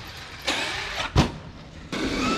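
A stock Traxxas X-Maxx RC truck bursts at full throttle across a yard. Its electric motor gives loud whining surges in separate bursts, with a sharp thump in the middle, close by.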